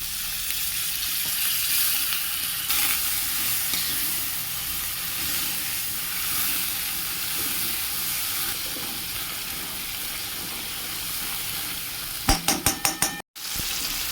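Spice paste of turmeric, cumin and coriander powders with a little water frying in a pan, a steady close sizzle and hiss throughout, with a short burst of utensil clatter near the end.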